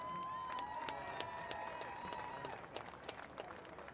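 A crowd at a Michigan high school football all-star game gives the East All-Stars a round of applause. The clapping is faint and distant, with a steady crowd wash and a thin tone running through it.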